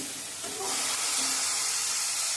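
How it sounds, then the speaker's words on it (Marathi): Vegetables and onions sautéing in a pan, a broad steady sizzle that swells loud after the first half-second and holds as a continuous hiss. "आता इथे भाजी टाकल्यानंतर आपल्याला कांद्यामध्ये परतून घ्यायची भाजी एक मिनटासाठी परतून घ्यायची"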